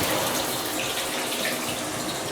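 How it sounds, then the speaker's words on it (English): Shower water runs steadily in a private bathroom of a holiday home on Tenerife, a close, even hiss of spray that carries on unbroken with no voices. "My very own shower, clean and private."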